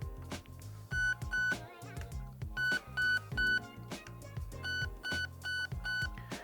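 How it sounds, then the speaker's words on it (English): Programming beeps from a Nebula II MOSFET in an airsoft rifle sound as short electronic tones in repeated groups, clicks between them, all over loud background music. "we're gonna pull the trigger until we get 4 beeps"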